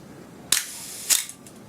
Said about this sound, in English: the mirror is going to flip up, the shutter is going to open almost instantaneously